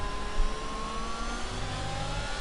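Formula 1 cars, a Ferrari and a McLaren among them, run through the Vale chicane at the British Grand Prix in the F1 2022 video game, making a steady, high engine whine with shifting pitch and no break.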